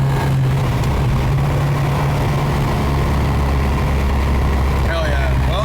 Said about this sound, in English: The engine sounds different.